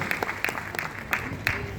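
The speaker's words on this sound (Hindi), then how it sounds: "एक जोरदार तालियां सर के लिए प्लीज" Audience clapping for a speaker at a Vestige leadership summit in Nagpur, a short, steady burst of indoor applause with a few sharper claps standing out.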